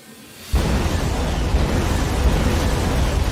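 An explosion special effect from the cyber-spy movie Twisted Pair bursts in suddenly after near-quiet, then sustains as a loud, dense roaring rumble with no voices.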